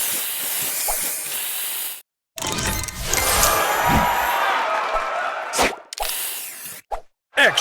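Match Masters video game spray booster effect: a bright hissing spray burst with plopping and slam-like game sounds, broken by abrupt silences and short clicks, loud and mixed in game audio.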